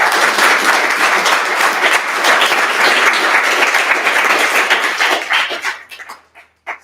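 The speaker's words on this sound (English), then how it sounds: "You get a round of applause for everybody" A crowd at an end-of-project celebration for the team breaks into sustained, loud applause that holds steady for several seconds, then thins to a few scattered claps before stopping.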